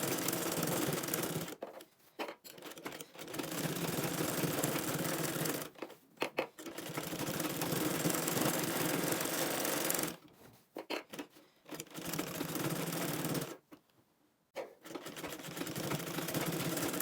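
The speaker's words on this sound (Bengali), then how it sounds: "এই তো চাপ সেলাই দিয়ে আমি বসিয়ে দিচ্ছি।" A sewing machine runs in long continuous bursts, top stitching a gathered frill onto fabric, its steady whirring rattle stopping briefly several times between runs, close and loud with no talk.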